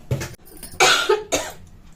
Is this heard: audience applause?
no